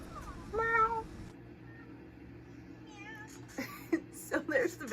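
A person imitates a cat, giving a run of close, clear meows, a couple of separate calls first and then a quick burst of several more near the end.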